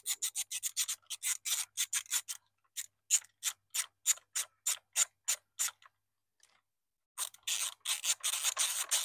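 Screws come out of the turn signal housing on a Yamaha Raptor 700R ATV, a close series of quick rhythmic scraping rasps in bursts, broken by a short pause before resuming.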